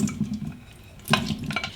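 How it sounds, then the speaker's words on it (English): Red wine poured into a pan holding beef tips, a short liquid splash and trickle with a faint low sizzle beneath, close and quiet, with a brief louder splash near the end. "we're going to take 1/3 of a cup of the wine. We're going to pour it in there."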